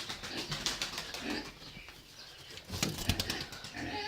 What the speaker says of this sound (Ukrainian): От моя голубка злетіла з гнізда.